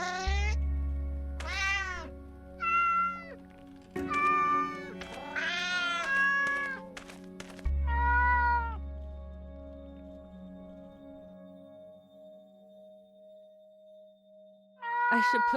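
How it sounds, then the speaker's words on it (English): Cats meow repeatedly in the Memoranda video game, several drawn-out, rising and falling cries in clusters alongside a low steady hum, then a long quiet stretch before one more meow at the end. "I should put this somewhere where it can catch the sound from all these cats."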